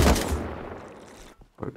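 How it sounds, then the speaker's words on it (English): Several loud gunshots from an AK rifle in the survival game Rust, fired in a quick burst that decays over about a second, with two fainter shots following after a short gap. "Someone shot me with an AK."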